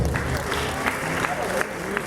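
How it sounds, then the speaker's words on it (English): An audience applauds panelists at the FID Networks Hub 2018 event, a steady wash of clapping running under a speaker's talk throughout. "can we give them a round of applause, please?"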